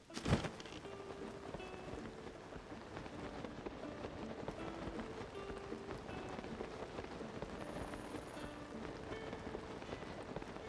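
Rain falls steadily in the Tears of the Kingdom game world, a soft continuous patter with scattered drops over a faint background, heard quietly and without talk.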